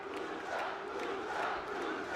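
A large wrestling arena crowd in a video game cheering and roaring continuously at a main event, a dense, steady wash of distant voices with no clear individual words.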